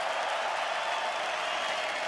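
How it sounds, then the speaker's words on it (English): Crowd applause at a middleweight title boxing match in Madison Square Garden, New York City, a steady dense wash of clapping and crowd noise from a large arena audience. "A round of applause for both fighters in this middleweight contest."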